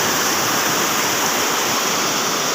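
Rushing floodwater, a dense, steady roar of churning water that stays loud and close throughout with no voices over it.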